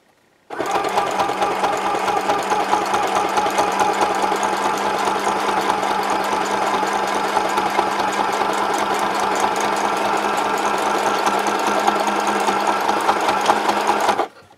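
Sewing machine stitching back and forth on a luggage tag: a loud, close, continuous rapid needle chatter and motor drone that starts abruptly and runs unbroken for about fourteen seconds before stopping.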